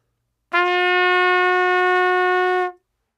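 A single sustained trumpet note pitched slightly sharp, with a tight, pinched, squeezed tone, held steady and loud for about two seconds alone before cutting off cleanly.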